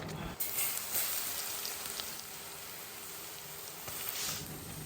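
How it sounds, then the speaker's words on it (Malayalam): Mustard seeds, fenugreek, curry leaves, garlic and ginger sauté in hot coconut oil for a fish curry, giving a steady, close, loud sizzle and crackle throughout with no talking. "വെളിച്ചെണ്ണയിലാണ് കടുകും പിന്നെ ഉലുവയും കറിവേപ്പിലയും വെളുത്തുള്ളിയും ഇഞ്ചി എല്ലാം ഇട്ടിട്ടൊന്ന് വഴറ്റിയെടുക്കുന്നത്"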